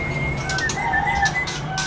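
Murai trotol (magpie robin) gives a short run of clear whistled calls, near and fairly loud over steady low background hum, with no talk.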